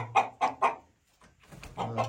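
Village hens cluck in a farmyard, young layers among older birds: three quick clucks, a short pause, then a few more close, moderately loud calls, with no talking.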